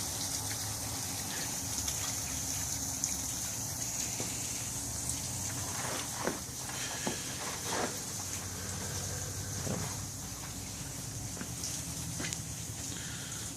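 Water runs steadily through a homemade farm siphon in a thick stream, a constant near gush and trickle with a few soft knocks and splashes scattered through it.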